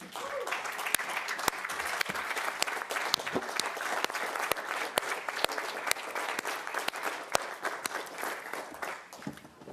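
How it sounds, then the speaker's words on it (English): A standing audience at a city council meeting gives a councilman a long round of applause for his work on transit: dense, steady clapping with sharp individual claps standing out, moderately near, with a faint murmur of voices beneath. "give Councilman Elrod a big, huge round of applause for all his hard work on transit."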